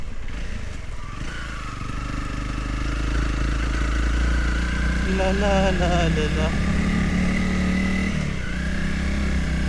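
Motorcycle ridden uphill on the Ambewela–Pattipola road through green hill country, its engine droning steadily throughout with rising and falling revs, while a rider talks over it close to the microphone.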